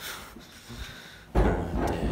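An office door at Charlton Athletic's offices gives a dull thud as it swings, followed by a sudden rise into louder, fuller room noise.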